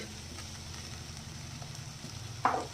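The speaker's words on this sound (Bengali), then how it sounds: "এই যে মাছ আর আলুটা প্রায় ভাজা ভাজা হয়ে গেছে" Fish and potato pieces fry in oil in a pan, giving a low steady sizzle that swells into a brief louder hiss near the end as they are stirred.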